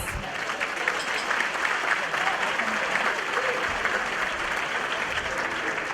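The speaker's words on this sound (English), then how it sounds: "one more round of applause" Steady, dense applause fills a gala dinner hall at a Syracuse NAACP Freedom Fund Dinner, a continuous wash of many hands clapping at moderate volume.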